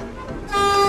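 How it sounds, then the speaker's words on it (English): A car horn sounds once, a sustained honk starting midway and holding loud to the end, following a brief stretch of low ambient noise. "Can I honk the horn?"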